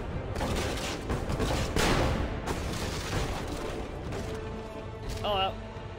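Gunfire and booming blasts in the Assassin's Creed Revelations video game during an assassin den fight, a dense loud barrage of shots over a busy game mix, with a short tonal chirp near the end.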